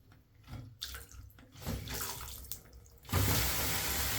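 Water running from a faulty Hansgrohe Croma thermostatic shower mixer, first uneven gushes and splashes, then a sudden loud steady full stream near the end.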